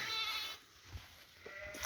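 A lamb bleats for its mother, a ewe left inside a barn on a foggy, icy winter day; a few short thin calls rise near the start and again toward the end, close by over a quiet background.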